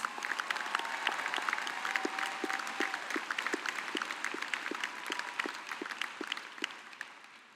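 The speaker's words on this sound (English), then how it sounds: "Graduate, give them a round of applause." Commencement audience at a Davenport University graduation applauding faculty, administrators and support staff, a steady sustained clapping from a large crowd that fills the whole stretch without talk, tapering slightly at the end.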